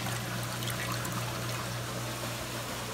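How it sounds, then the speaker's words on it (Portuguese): A steady, even rush of water poured onto corn in a wooden mortar for traditional cornmeal, a continuous splashing stream running unbroken throughout with no talking. "milho no pilão, eu tenho que colocar água"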